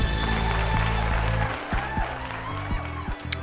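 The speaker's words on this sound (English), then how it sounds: "I love that there's a little crowd of people cheering me on" A small crowd in the video game Totally Reliable Delivery Service cheers and claps in a loud, dense wash that celebrates a successful delivery, then drops back under a steady game soundtrack.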